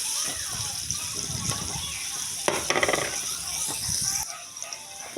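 Garlic sautéing in hot oil for chicken afritada gives a soft sizzle and some stirring scrapes, with a voice talking over it throughout.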